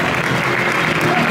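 A crowd at a West Coast Swing dance pro show claps in a thick, steady wash. The applause is loud and close, with a voice faintly audible within it.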